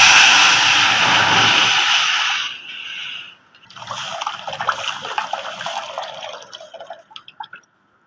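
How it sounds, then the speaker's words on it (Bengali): Tamarind water pours into a hot pan of tempering for a crab curry, a loud rushing splash for a few seconds that gives way to quieter bubbling and sizzling. "এবার জলটা দিয়ে দেবো"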